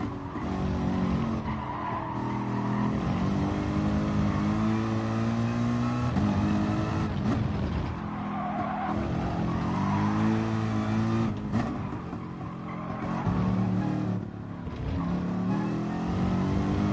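A GT3 race car in a sim racing game at Catalunya, engine howling continuously as it shifts through gears, with pitch rising and dropping under braking and downshifts, plus occasional tire squeal, close and loud.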